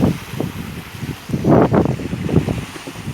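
Gusty wind at a beach buffets the microphone in uneven bursts, with a louder rush in the middle, over a faint wash of sea surf.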